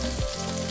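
Chopped tomatoes drop into a hot pan with ginger for Bicol-style bangus paksiw, giving a steady, close sizzle and crackle of frying throughout the short moment.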